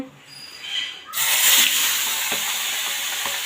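After a quiet moment, a loud hiss of fish frying in an oiled pan bursts in and keeps crackling steadily, close up, with a few sharp pops.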